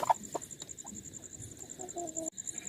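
Giriraja chicken clucking in short, scattered bursts near the microphone, with a steady high background whine.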